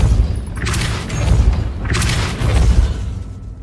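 Depulso spell cast in the Hogwarts Legacy video game, two loud booming whooshes with deep thuds about a second apart, heavy low rumble between them, no voices.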